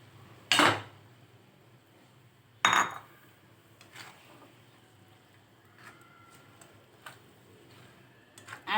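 A utensil scrapes and knocks against a pan while onion, chili and egg bhurji are stirred, giving two sharp clanks then scattered lighter taps and ticks over quiet background.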